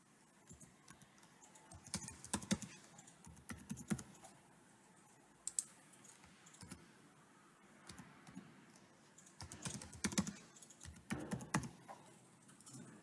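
Quiet, irregular bursts of clicking as someone types a password on a computer keyboard, the keystrokes coming in quick clusters separated by short pauses.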